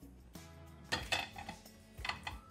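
Chopped tomatoes drop into a pressure cooker pot with a few clanks and metallic clinks of utensils against the vessel, close and fairly soft.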